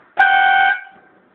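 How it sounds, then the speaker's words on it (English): Air horn fitted to a Honda Odyssey sounds one loud, steady blast lasting about half a second, then cuts off and leaves a short fading ring. "That's how an air horn sounds."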